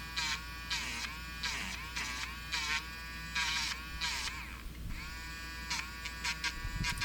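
A small electric eraser whirs against an airbrushed skull stencil painting in short repeated buzzing strokes, its high whine starting and stopping close by over a faint steady hum.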